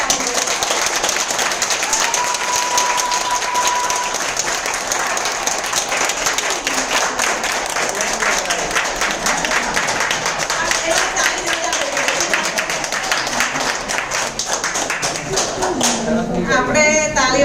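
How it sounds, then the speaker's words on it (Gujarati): An audience claps loudly and continuously at a business meeting, giving a dense, sustained wash of applause from a large crowd that stays strong throughout and briefly rises toward the end. "તો જોરદાર તાળી હોવી જોઈએ છે."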